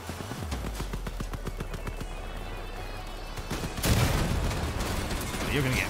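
Rapid bursts of heavy sniper-cannon gunfire in the video game Crossout crackle in quick succession, followed by a louder blast and rumbling, with a voice murmuring underneath.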